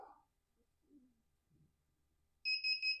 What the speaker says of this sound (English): my heat press has a timer. It'll give me an alarm.